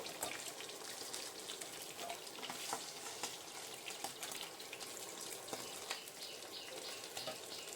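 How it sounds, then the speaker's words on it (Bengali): Pointed gourd (potol) and potato pieces fry in hot oil for a light Bengali fish curry, giving a steady crackling sizzle with occasional sharper pops and stirring clinks throughout. "এবার এই তেলটার মধ্যে আমি পটল আর আলুগুলো ভেজে নিলাম"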